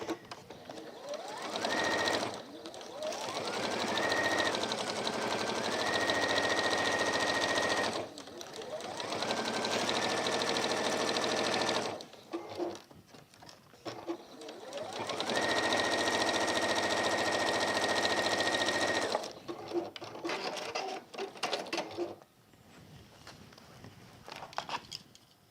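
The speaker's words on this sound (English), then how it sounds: "if we're sewing, why not top stitch? Why not chain stitch?" A sewing machine stitches a tool belt in three long, steady runs, each rising to speed and holding a loud, even whir, with pauses and handling noises between runs.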